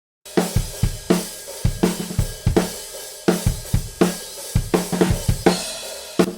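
An unprocessed drum kit of kick, snare, two toms and overhead mics plays a steady groove of kick, snare and cymbals, sounding dry and close as if recorded in a small room.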